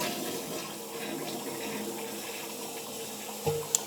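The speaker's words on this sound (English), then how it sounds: "it said just put it in and flush" Toilet flushing after a septic tank treatment packet is dropped into the bowl: a steady rushing of water runs throughout at moderate level, with a brief louder gurgle near the end.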